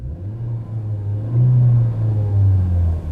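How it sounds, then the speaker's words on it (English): A 2015 Hyundai Sonata Eco engine is revved, a low droning rumble that swells and holds, then dips and swells again, heard close up and with no talking. "when you rev it"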